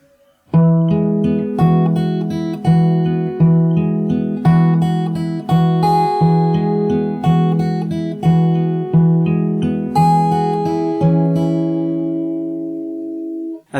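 A song on fingerstyle acoustic guitar: a steady run of plucked chord phrases rings out evenly, close and bright, ending on a sustained fading chord.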